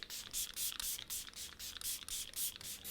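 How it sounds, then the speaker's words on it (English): Repeated short misting bursts of Catrice Prime and Fine Dewy Glow fixing spray, about eight quick pumps in an even rhythm, close and soft. "set everything down with a little bit of the Prime and Fine Dewy Glow Fixing"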